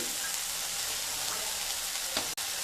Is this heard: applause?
no